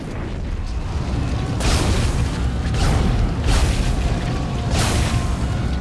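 Heavy booming weapon shots fire in the Dead Space 2 video game, several deep blasts spaced a second or so apart over a dense rumbling background, with no voices.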